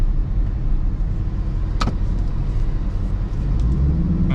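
C7 Chevrolet Corvette Z51 Stingray drives along with a steady low engine and road rumble heard from inside, plus a brief sharp click partway through.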